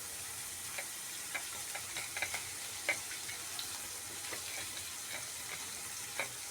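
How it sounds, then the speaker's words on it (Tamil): Onions sautéing in a pan, a faint, even sizzle with scattered light clicks and stirring taps throughout, quiet and without speech. "நல்லா அந்த வெங்காயத்தை வதக்குங்க"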